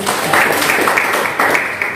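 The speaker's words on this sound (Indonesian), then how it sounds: "Berikan tepuk tangan bagi Tuhan Yesus." A church congregation claps during a sermon, a burst of fairly loud, close applause that swells and stays steady for a couple of seconds.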